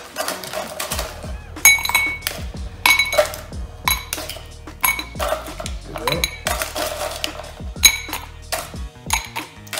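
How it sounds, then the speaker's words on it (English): Ice cubes clatter into a cocktail glass for a rum grog, a run of bright clinks and knocks repeating in bursts close to the mic, with no talking. "And we're gonna fill our ice, a glass full of ice."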